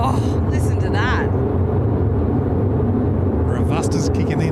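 Airliner landing and braking at Sydney Airport, heard as a heavy, continuous low rumble and roar from the distance, steady throughout, with brief higher whistling tones near the start and end.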